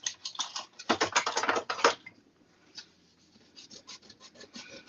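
Quick back-and-forth scrubbing of a Mono eraser on a paper card, close up, with a dense louder burst followed by lighter, sparser strokes.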